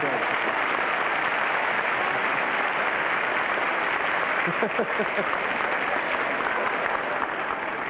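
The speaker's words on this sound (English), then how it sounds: "he heard the applause" Studio audience applauding on a 1960 game show, The Price is Right, a steady dense wash of clapping that holds loud for the whole stretch, with faint voices breaking through near the middle.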